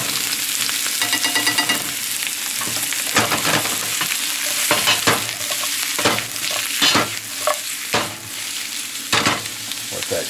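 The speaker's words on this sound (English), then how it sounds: "we're still cooking down the onions" Onions and garlic sauté in a pan with mushrooms and squash for a Marsala side dish, sizzling steadily and loudly up close, broken by repeated scrapes and clacks of stirring, with no talking.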